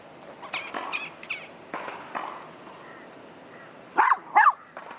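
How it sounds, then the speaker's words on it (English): Several dogs bark at an outdoor dog park, scattered yips and woofs early on giving way to two loud, close barks near the end, with other dogs farther off. "letting these other dogs bark at you"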